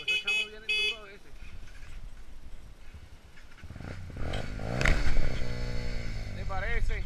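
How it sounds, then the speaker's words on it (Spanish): A motorcycle approaches on a descent, growing louder from a faint hum into a close, rising engine roar. Voices are heard near the start. "Viene una moto por ahí, oíste"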